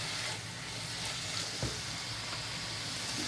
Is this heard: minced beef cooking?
yes